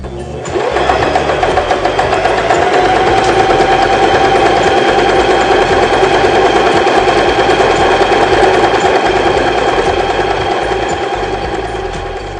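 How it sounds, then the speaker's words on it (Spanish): A domestic sewing machine runs steadily and loudly, sewing a zigzag stitch at stitch length 1, its needle clattering in a fast even rhythm for about twelve seconds with no talking. "Vamos a iniciar costura en zigzag con el largo de puntada número 1."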